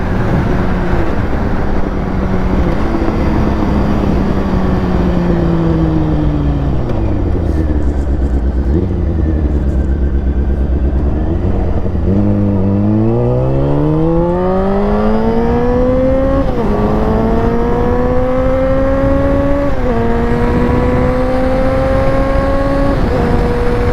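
Honda CBR sport motorcycle engine heard from the rider's seat, loud and continuous, revving through gears with rising pitch sweeps, dropping to a low idle midway, then climbing again in repeated upshifts.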